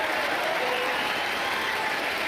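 Dense, sustained applause with cheering from a large political audience, loud and unbroken throughout with no gaps.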